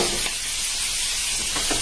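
White beans hit a very hot pan and sizzle loudly and steadily while being prepared for fish tacos; a dense, continuous frying hiss with faint stirring scrapes, close and constant throughout.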